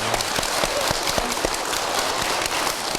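Audience at a Buddhist temple gathering in Hagye-dong, Nowon-gu, Seoul breaking into steady, dense applause, a continuous patter of many hands clapping at moderate distance for a few seconds.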